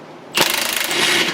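A ratchet loosens a 17 mm bolt on the control arm of a 2004 Toyota Sienna: a close, loud burst of rapid clicking that settles into a smoother whir lasting about a second.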